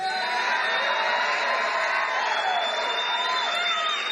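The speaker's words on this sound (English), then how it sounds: "the crowd cheered" A large crowd at a political speech in a casino cheers and shouts steadily, with scattered whoops and laughter blending into a continuous roar.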